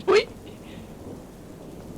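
In the Slender Mansion horror video game, a sharp crack of thunder strikes once at the start and then fades into a low, steady rumble of rain and ambience.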